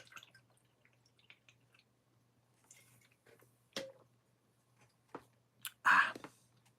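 Getting a drink of water indoors: quiet, close drips and small liquid sounds with a few light clicks, ending in a short louder splash of pouring or sipping, with no one speaking.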